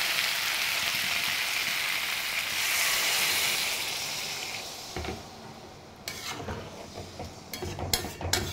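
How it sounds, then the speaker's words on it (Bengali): A pot of biryani in progress as water is poured in, first a steady rushing pour with sizzling, then clinks and scrapes of a utensil against the pot as it is stirred and settled. "তো চলো এইভাবে দিয়ে দেবো জল"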